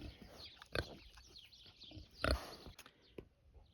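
Piglets on an off-grid homestead give several short, close grunts and snorts in scattered bursts against a quiet background.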